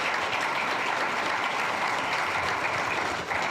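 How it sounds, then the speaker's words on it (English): An audience at a lecture applauds its panelists, sustained dense clapping from many people that holds at an even level throughout and tapers slightly at the very end. "Can you please give a round of applause to our panelists?"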